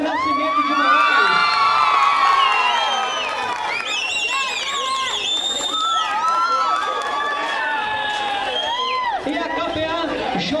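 Crowd at a São Francisco road race awards ceremony cheering and whooping loudly for a placed runner, with children shouting and excited voices throughout, steady and dense for the whole stretch.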